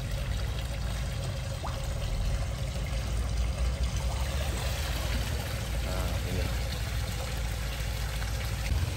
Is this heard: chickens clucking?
no